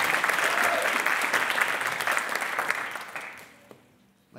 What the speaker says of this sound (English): Y'all give a warm, warm round of applause to all the performers tonight.